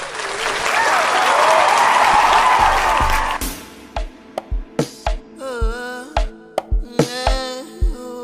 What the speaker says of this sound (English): So let's give you a round of applause, y'all.